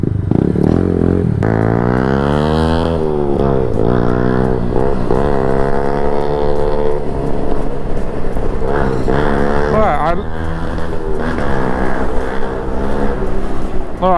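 A motorcycle with a sport exhaust revs and drones loudly with rising and falling pitch, a person talking over it throughout.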